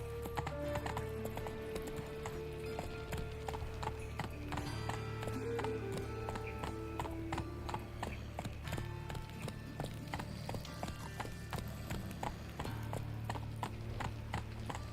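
Roach the horse gallops in The Witcher 3: Wild Hunt, with rapid, steady hoofbeats clip-clopping throughout over a low ambient game music bed.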